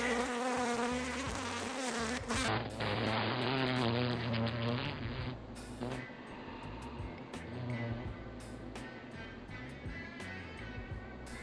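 Honeybees drone steadily in an opened beehive during spring inspection, a dense continuous buzz close by with shifting tones and faint handling knocks.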